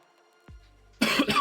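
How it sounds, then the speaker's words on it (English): A person coughs from a bad cold, a short quiet sound followed by two harsh, close coughs in quick succession. "I'm coughing lots"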